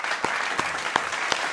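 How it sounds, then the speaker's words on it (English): Audience applause for a guest at a livestreamed gaming event, a brief even patter of clapping with a few sharper claps standing out. "Let's give you a big round of applause"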